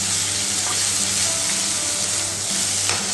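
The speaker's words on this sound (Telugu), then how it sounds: "కొద్దిసేపు ఫ్రై అయిన తర్వాత అల్లం ఇంకా పసుపు వేసుకుందాం" Ginger and turmeric sizzle and fry in hot oil in a pan while preparing a Telangana-style fish curry, a steady close crackling hiss with occasional stirring, no voices.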